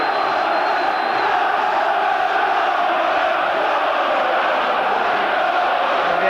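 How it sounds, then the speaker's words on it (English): A football crowd at Ayresome Park during a Middlesbrough versus Newcastle final-day match in 1990 roars in a sustained, dense wall of noise with no pauses. "And the Ayrton Park crowd winds it up."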